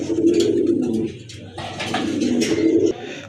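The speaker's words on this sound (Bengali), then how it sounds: "আরেক জোড়া কবুতর দেখতে পাচ্ছেন" Fancy pigeons for sale, in black and sky-blue varieties, give several loud, close, throaty coos in overlapping bursts, with brief pauses between calls and no speech.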